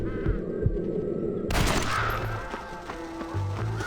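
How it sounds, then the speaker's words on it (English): Gunfire in the Red Dead Redemption video game: a burst of loud shots at the start, then a denser volley with ringing echoes, with low thuds and hum running underneath. "I have actually got to shoot them all."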